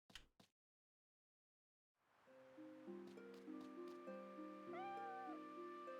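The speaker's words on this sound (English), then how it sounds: "I need to replace the sound clips for the cat's meow with just Verdant going meow, meow." Cat meowing in a farming video game: after a brief click and a pause of silence, several clear, close, tonal meows rise and fall over a soft ambient bed.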